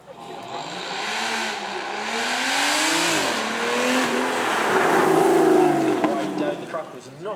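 V12 car accelerating up a hill course at a supercar event, its engine note rising and falling through gear changes over several seconds, with a crowd or commentary voice faintly underneath.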